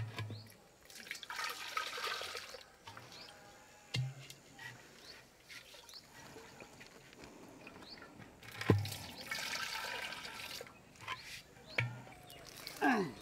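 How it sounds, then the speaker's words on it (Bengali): Lime water is swirled inside clay date palm sap pots, one after another, to clean them. Sloshing, gurgling water comes in several bursts with quieter dripping between them and a few knocks of the pots. "চুন জল দিয়ে একের পর এক কলসির ভেতরটা নাড়িয়ে নেওয়া হয়।"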